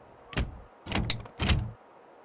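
Train doors closing on a Chicago Brown Line train in Train Simulator on PS3: three short, close mechanical thuds and slides in quick succession, then quiet.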